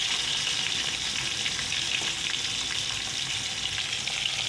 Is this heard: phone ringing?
no